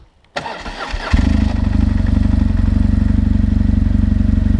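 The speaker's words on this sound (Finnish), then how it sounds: "Ja kuunnellaanpa miltä se aamukäynti kuulostaa." Motorcycle engine starting on a cold morning: a brief starter whir and clatter, then the engine catches and settles into a loud, steady, close idle with a fast even pulse that runs to the end.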